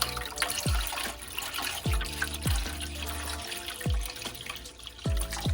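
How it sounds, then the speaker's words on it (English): Water pours and splashes into a metal pressure canner, with a few sharp clanks of metal and a steady running flow throughout, fairly close. "We're gonna fill up a little bit more water."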